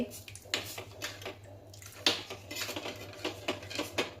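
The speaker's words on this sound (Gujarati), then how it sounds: "આપણે આ વામ દૂધની અંદર એડ કરી દેવાનું છે. હલાવતા રહેવાનું છે." A spoon clinks and scrapes against a metal pot while stirring warm milk, producing irregular close knocks and clatter with a low hum underneath.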